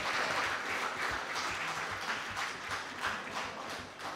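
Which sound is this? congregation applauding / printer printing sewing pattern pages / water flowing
congregation applauding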